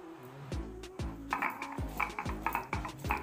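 Whole spices, including cumin, are ground with water on a flat grinding stone, producing quick rhythmic strokes that repeat about twice a second, each with a short hard knock and a brief ringing tail.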